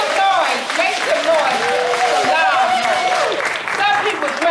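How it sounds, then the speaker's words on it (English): Loud, sustained applause from a concert audience at an annual storytelling concert, with a host's amplified voice talking over the clapping and cheering throughout. "Give them a round of applause."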